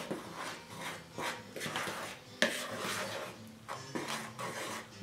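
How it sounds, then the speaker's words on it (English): Brownie dry ingredients being mixed in a bowl: soft, rhythmic scraping and rubbing strokes repeat steadily at close range, each stroke a brief swish against the bowl. "All right, we're gonna mix this first. The dry ingredients, mix them"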